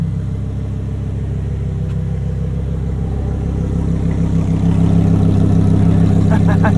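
A Lamborghini Huracan STO's engine rumbles low and steady at close range, growing louder toward the end as the supercar pulls away.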